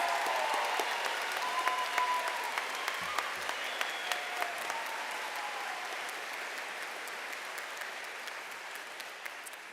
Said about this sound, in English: Please join me in a round of applause for our Human Excellence honorees.